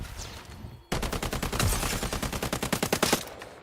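Dynasty gun in the video game Highguard firing one rapid burst of about twenty shots in an even, punchy rhythm. The burst is loud and close, with heavy recoil, and follows a quieter stretch of game ambience.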